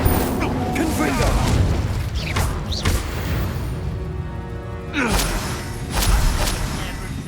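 Spell explosions in Hogwarts Legacy, Confringo among them, burst loudly with booming impacts and whooshes amid clanking battle sounds, while voices shout spell names over the fighting.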